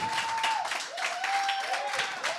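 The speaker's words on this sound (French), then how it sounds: "Chris, on l'applaudit." An audience applauds in a broad, continuous wash of clapping at moderate loudness, with a voice carrying over it.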